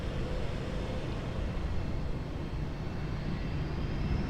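Boeing airliner taking off from runway 20 at Lisbon Airport, a steady broad engine roar held at constant loudness throughout, with no voices.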